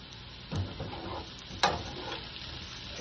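Onions, garlic and ginger fry in a pan for a spicy chicken tikka masala, a steady close sizzle broken by a couple of sharper stirring scrapes.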